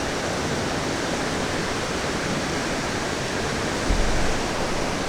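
Waterfall or cascade of water pouring over rocks, a steady broadband roar that stays loud and constant throughout, with a slight swell near the end.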